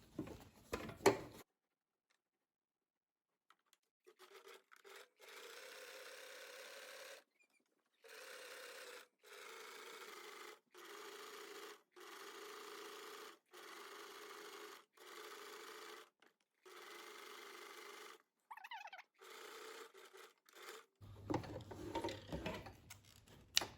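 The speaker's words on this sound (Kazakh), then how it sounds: "мына жиекті қойып, зигзагпен соңына дейін тігіп аламыз" A sewing machine runs a zigzag stitch along the edge of a skullcap in repeated bursts of a few seconds each, a quiet buzzing whir separated by short silent pauses.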